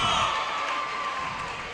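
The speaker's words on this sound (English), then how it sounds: "Jimmy getting the crowd excited" Crowd at a high school basketball game cheering and roaring in a gym, a broad, steady wash of voices that fades slightly over a couple of seconds.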